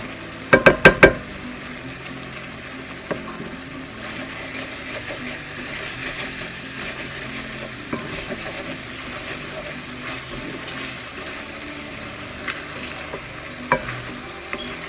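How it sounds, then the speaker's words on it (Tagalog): Frog meat and bitter gourd being sautéed in a pan, a sustained close sizzle with occasional spatula scrapes and a quick burst of sharp knocks at the start. "Kailangan igisa maigi."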